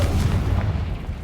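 Confringo blasting spell in a Harry Potter video game: one loud, close, booming explosion at the start that rolls off into a fading rumble.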